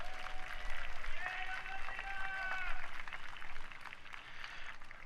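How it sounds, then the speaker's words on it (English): A high school band's spring concert audience applauds the saxophone players, steady clapping lasting several seconds before fading, with lingering sustained saxophone tones and some background voices. "Big round of applause for these guys."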